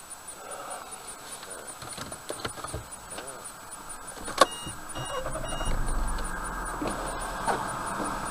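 A car pulls away and drives off on the R354 highway between Kurgan and Murmansk, a steady engine hum under road noise building slightly as it gets under way, with a sharp click near the middle.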